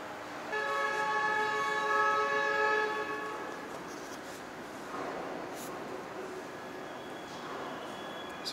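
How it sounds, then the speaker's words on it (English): A Royal Railway airport express train in Phnom Penh, Cambodia, sounds a loud, sustained multi-tone horn for about two seconds, then a quieter rumble of the train pulling into the station carries on with no talk. "So that's the train."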